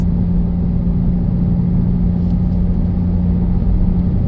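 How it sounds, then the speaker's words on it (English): A 2013 Jeep Patriot cruises on a smooth highway, producing a loud, constant low cabin drone and road rumble with a steady hum and no distinct rattles. "on the smooth parts of the highway, it's not really rattling a whole lot"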